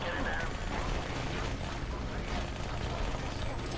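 Rapid, continuous SMG gunfire from Halo: Spartan Assault, a dense, steady stream of shots running throughout amid game effects, with a voice talking over it.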